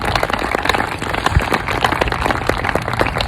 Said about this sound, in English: So round of applause for all those individuals.